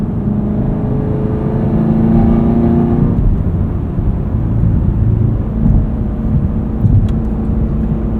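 A modified, tuned 2022 Camaro SS 1LE V8 accelerates, its loud, close, steady engine roar rising in pitch before easing into a continuous deep drone.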